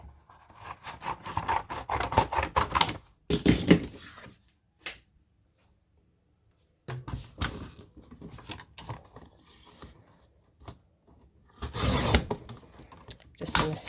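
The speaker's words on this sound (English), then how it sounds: "we're going to now cut it out on the cardboard." Scissors or a craft blade cutting through cardboard for a small ink holder, with bursts of rough scraping and snipping separated by pauses of near silence, close and moderately quiet.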